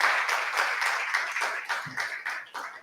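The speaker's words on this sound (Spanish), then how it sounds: "Yo quisiera pedirle por favor al público que nos acompañe un fuerte aplauso tanto para Dani como para Alan" Seminar audience applauding, a brief stretch of close, rhythmic clapping with distinct hand claps.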